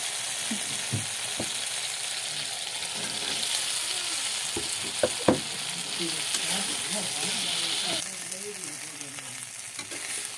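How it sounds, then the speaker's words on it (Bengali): Fried plantain being stirred into an oily spice masala in a pan, a steady loud sizzle with scraping stir strokes and a few sharp knocks against the pan, continuous throughout. "কলা দিয়ে ভালো করে কষিয়ে নেওয়া হয়ে গেছে"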